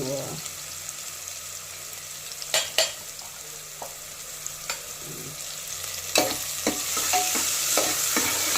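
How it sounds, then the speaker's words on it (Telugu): Onions frying in hot oil in a home kitchen until golden, with a steady close sizzle and the occasional scrape and clink of a spoon stirring the pan. "ఇవి బాగా గోల్డ్ కలర్ వచ్చేట్టుగా వేయించుకోవాలి."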